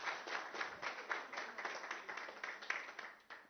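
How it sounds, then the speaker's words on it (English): An audience claps after a session at an international education conference: a soft, even patter of many hands continues throughout, heard from a distance and fairly faint. "please go ahead, give a clap."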